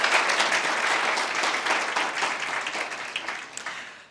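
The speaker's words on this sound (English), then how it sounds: "A round of applause," Sustained applause from a seated audience at an impact report launch event, dense steady clapping that holds for the full stretch and gradually thins toward the end, with no talking over it.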